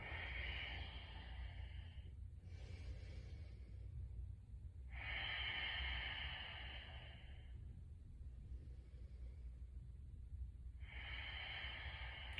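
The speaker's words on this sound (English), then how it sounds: "Inhale and exhale." Slow, deep breaths in and out during a hip and hamstring stretch, three long hissing inhales or exhales at a steady unhurried rhythm, soft and close with quiet gaps between them and no talking.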